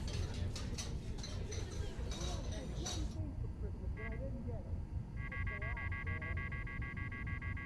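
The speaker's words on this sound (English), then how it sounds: "That sounds like a phone." A phone chimes in Spider-Man: Miles Morales, with a steady electronic tone pattern coming in partway through over busy city ambience and background game sounds.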